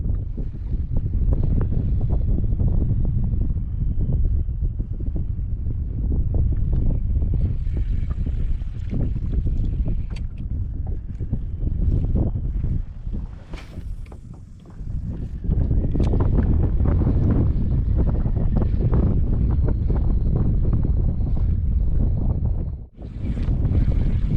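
Heavy, steady wind roar buffets the microphone continuously on a kayak in a coastal lagoon in December, with rumbling low gusts and a brief lull in the middle.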